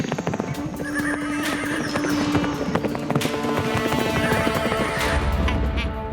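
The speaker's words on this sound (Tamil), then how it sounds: "அங்க பாருங்க குதிரைங்க" Cartoon horses whinny and gallop, shrill neighs ringing over dense, rapid clip-clopping hooves that pound steadily and close throughout, with musical score beneath.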